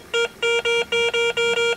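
A Garrett ACE 250 metal detector gives its medium-pitched target tone as a quick run of about six short, evenly spaced beeps, up close and alone.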